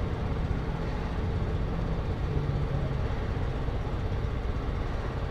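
A car engine idles steadily at about 2,000 RPM, a constant low hum and rumble with no change in pace.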